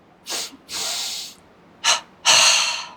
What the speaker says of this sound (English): 2 inhales through your nose, 2 exhales through your mouth